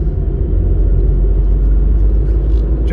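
A Vauxhall Corsa C drives through a series of turns, its engine and road noise forming a loud, steady low rumble heard from inside the car, with no speech over it.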